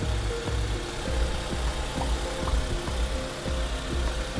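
Engine of a 2010 Toyota Harrier 240G SUV idling with the hood open, a steady, close, even rumble with a faint regular pulse and no talking.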